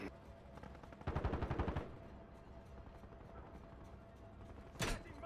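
Video game gunfire on Ashika Island comes as a close rapid automatic burst lasting under a second, then a single short shot or clack a few seconds later, set against quiet background noise.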